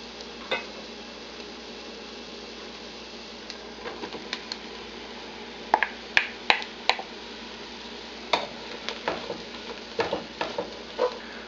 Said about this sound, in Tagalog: ihahalo na natin dito yung sliced white mushrooms